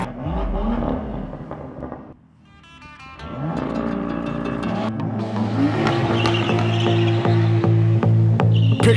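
A BMW M2 sports car engine revs hard and climbs through the gears, with tire squeal and loud, rising roars close by.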